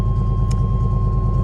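A 1995 Chevy Suburban 2500 cowboy conversion with a 454 big-block V8 runs steadily, a deep, continuous low rumble heard close up and alone.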